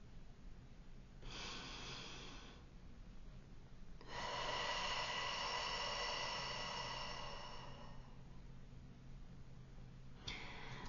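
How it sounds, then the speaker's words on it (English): A slow, deep breath drawn in and let out near the microphone during a calm tarot card reading, with a steady inhale then a longer exhale over faint background hiss, and no talking. "take a deep breath with me"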